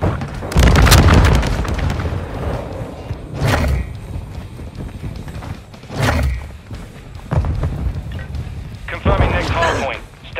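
Stealth bomber bombing run in Call of Duty Modern Warfare 2, a string of heavy booming explosions spaced a few seconds apart, loud and close, with rumbling tails and game voices mixed in.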